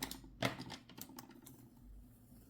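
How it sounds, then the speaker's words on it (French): Small strip of masking tape peeled from watercolour paper, a few quick, close, crackly ticks and one sharper rip, quiet and dry against a still room. "On enlève le petit scotch"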